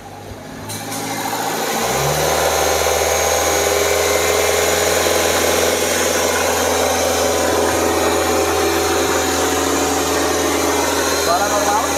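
A Nissan Evalia engine at idle is revved toward about 2000 RPM with the AC compressor engaged, giving a steady, loud mechanical drone and hum that holds throughout after a quick rise near the start.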